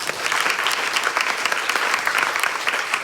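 An indoor audience at a domestic violence summit in the Antelope Valley applauds survivors, a continuous wash of many hands clapping at steady strength, with no voices over it.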